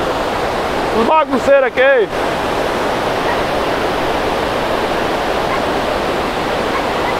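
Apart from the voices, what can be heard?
water flowing down at night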